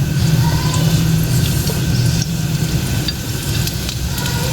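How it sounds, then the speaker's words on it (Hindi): Garlic cloves sauté in butter in a pan for Turkish soup, making a close, dense, continuous sizzle with faint stirring, loud and even throughout. "लहसुन 2 जो कलियाँ हमने डाली थी इसे हल्का हल्का फ्राई करेंगे, थोड़ा थोड़ा सॉटे करेंगे"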